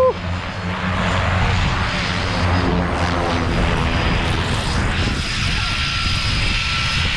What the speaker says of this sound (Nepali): यही प्लेनबाट हामीले गयो